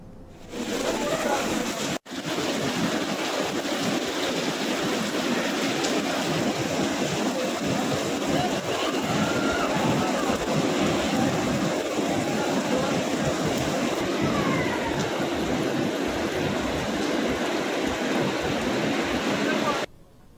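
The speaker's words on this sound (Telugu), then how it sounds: "తుఫాను ప్రభావంతో నెల్లూరు, తిరుపతి జిల్లాలో కుండపోత వర్షాలు కురుస్తున్నాయి" Heavy downpour and strong wind from Cyclone Michaung in Nellore and Tirupati districts, a loud, unbroken roar of rain and gusts that fills the whole stretch, with a voice faintly underneath.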